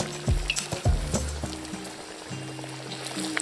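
Belarusian potato kolduny fry in a pan with a soft, steady sizzle and a few louder pops and clinks near the start. The sound stays fairly faint throughout and no one speaks.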